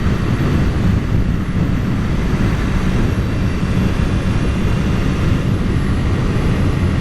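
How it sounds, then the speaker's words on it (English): A 2019 Honda CB650R motorcycle being ridden: a steady, dense low rumble of engine and induction noise mixed with heavy wind roar, constant and loud throughout with no speech. "I do hear a little bit of induction noise from the motorcycle."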